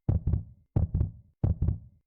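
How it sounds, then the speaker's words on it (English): Heartbeat effect in a video game demo, three quick paired low thuds in a steady rhythm with a fourth beginning at the end, close and isolated with silent gaps between beats. "Heartbeat."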